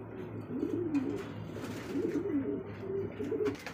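Lahori pigeons cooing close by in a loft, repeated throaty rolling coos in a steady rhythm, loud and clear with no talking.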